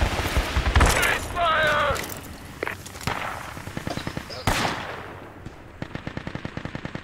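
An AA gun fires in the military shooter game Project Reality, in rapid bursts of heavy automatic fire and scattered gunshots, loud and near. Clusters of sharp shots repeat toward the end, with players' voices heard between the volleys.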